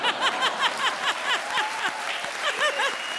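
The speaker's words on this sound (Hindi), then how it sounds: "आप ताली बजा रहे हो" A comedy show audience claps in a quick, steady run of bursts, with scattered chuckles mixed into the fairly loud, close applause.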